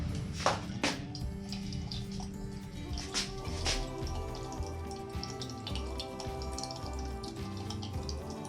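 Tap water running at city water pressure, a steady close hiss and splash that continues throughout at even strength, with a few brief clunks near the start.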